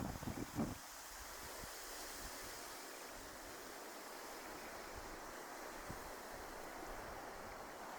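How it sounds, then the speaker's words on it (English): Steady wind and surf off the North Sea roar together in a broad, constant wash, with a brief gust of microphone buffeting at the start. "With wind and waves coming off the North Sea"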